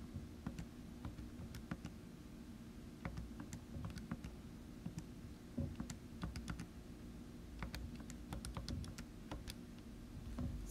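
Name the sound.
typing numbers into a calculator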